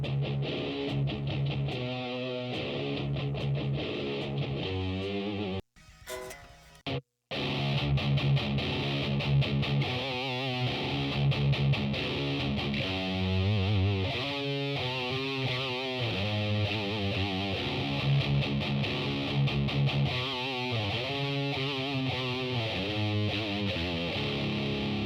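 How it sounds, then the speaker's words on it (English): Isolated original electric guitar track from a recording, heavy and distorted, playing riffs continuously alone with a brief drop-out near the start. "Here's the section with the original guitar all by itself."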